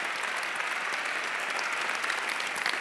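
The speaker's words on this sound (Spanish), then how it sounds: "Esta espectadora necesita un aplauso." A live television gala audience breaks into sustained applause, a steady, full burst of many hands clapping at once with little else audible.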